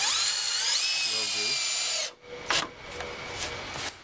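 A 14 to 16 volt cordless power drill whines steadily for about two seconds while driving a screw into a wooden raised garden bed, then stops, followed by light knocks and rustling with a voice briefly heard.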